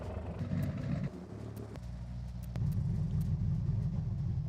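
A twin-turbo car engine in the racing game Forza Horizon 6 rumbles at a steady mid pitch, then swells louder partway through as the revs rise, with no talk over it.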